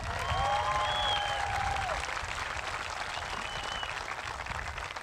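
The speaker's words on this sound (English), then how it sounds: "let's have a huge round of applause for this fantastic class of 2026" A crowd at a 2026 high school graduation ceremony applauds the graduating class, a loud, dense wash of clapping with high whistles and cheers early on, settling into steady applause.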